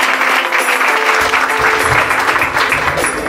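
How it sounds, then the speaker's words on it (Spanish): Applause at a municipal visit in Atiquizaya, Ahuachapán: a dense, steady round of clapping from a gathered audience, fairly loud and continuous from start to finish, with faint voices underneath. "Fuerte el aplauso a Ernesto Mason"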